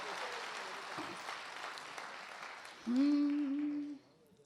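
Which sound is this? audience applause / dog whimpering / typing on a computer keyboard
audience applause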